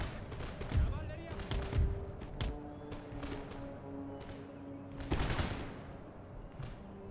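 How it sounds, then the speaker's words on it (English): Cannon fire from artillery in the video game Empire: Total War booms in scattered, mid-distance volleys across a battlefield, several thumping reports with sharp cracks, under a low hum of battle ambience. "Artillery open up."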